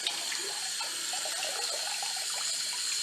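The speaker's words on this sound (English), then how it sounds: "Make sure you rinse that soap off really good." Running water from a tap rinses soap off the threads of a cricket, a steady close splashing flow with no talk.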